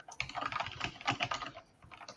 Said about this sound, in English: I can hear typing. Who's that? That's a very loud keyboard.